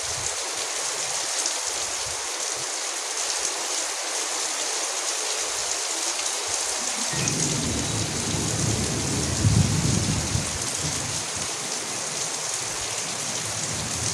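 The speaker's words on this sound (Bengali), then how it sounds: "ঝিম ধরে বৃষ্টি হচ্ছে" Heavy monsoon rain pours down in a village with a dense, steady hiss, close and unbroken. Deep thunder rumbles in partway through and rolls on beneath the downpour.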